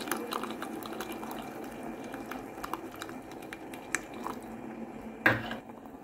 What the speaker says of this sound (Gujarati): હવે ધીરે ધીરે આ પાણી ઉકળે છે એમાં આપણે ઉમેરતા જઈએ છીએ